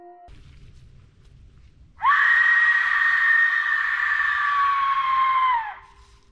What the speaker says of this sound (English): Someone, some ancient artisan, molded that clay, carved that skull, tested the sound and said, yes, this is the scream we need.